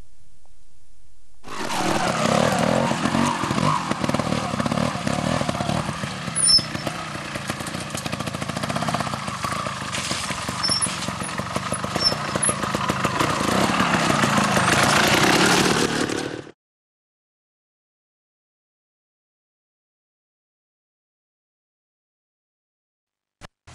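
A trial motorcycle riding along a hillside runs continuously for about fifteen seconds, a steady mid-pitched engine drone with slight throttle swells, then stops abruptly into silence.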